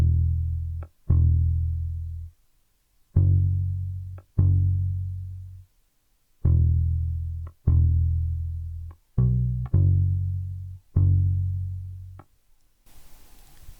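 Hip hop soul bass line with doubled root notes: deep, round sustained bass tones in a loose repeating pattern, some notes struck twice in quick succession with short gaps between phrases, heard alone without voices.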